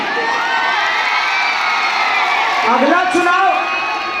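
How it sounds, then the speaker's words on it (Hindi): Huge crowd of more than two hundred thousand cheering and shouting at a Khesari Lal Yadav stage show in Kolkata, a loud continuous roar with whoops rising near the end. "एक जो और ताली होनी चाहिए।"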